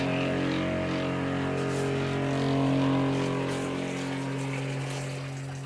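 A newly installed water pump runs loud and steady with a constant motor hum while water pours into a waterfall as a broad rushing wash, close and continuous with no talking.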